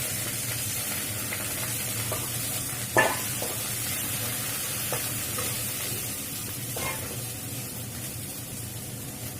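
Chopped ginger, garlic, onion and chili sizzle steadily in hot oil as a Bengali pumpkin-leaf roll filling is stirred, with a few sharp spatula scrapes and clinks against the pan rising over the constant frying hiss.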